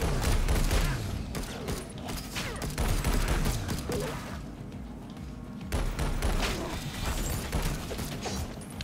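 Rapid, dense gunfire from the video game Alienation: overlapping shots and bursts crackle continuously for several seconds, loud and close, with a brief lull midway before the shooting resumes.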